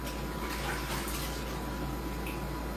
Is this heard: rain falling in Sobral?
no